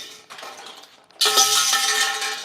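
Metal clanks and scrapes as bars are handled, a quieter rattle followed by a louder, ringing metallic clatter.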